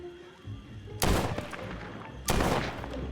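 Two loud gunshots from a Warren .45 caliber revolver in The Walking Dead: Saints & Sinners, each a sharp blast with a ringing tail, spaced about a second apart over a low ambient hum.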